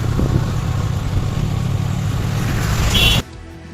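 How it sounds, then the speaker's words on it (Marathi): An army vehicle drives past on a road in the army area near Harishchandragad, a steady close engine rumble that holds loud for about three seconds and then cuts off abruptly. "हे बघा आर्मीची गाडी आली बरं"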